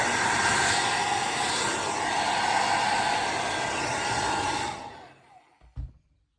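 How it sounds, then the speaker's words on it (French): A hair dryer blows from a distance onto wet Brusho pigment paint with a loud, steady whir for about five seconds, then cuts off, followed by a couple of soft knocks. "je sèche un petit peu au sèche-cheveux de loin"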